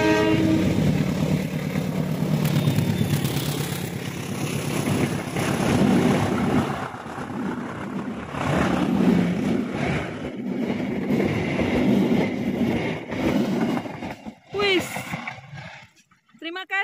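Serayu passenger train running from Purwokerto to Pasar Senen, a loud continuous rumble of wheels and wind noise close by for most of the clip before fading near the end.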